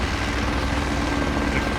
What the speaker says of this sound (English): The helicopter's still flying right here over the scene.